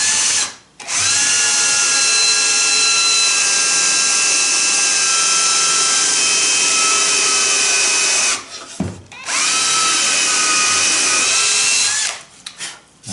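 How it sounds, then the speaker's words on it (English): A power drill runs loud and close as it drills holes in a woodworking project, sounding as two long whining stretches with brief pauses between them and a short burst at the end. "So I got all the holes drilled."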